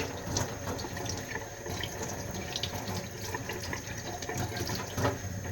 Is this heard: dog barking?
no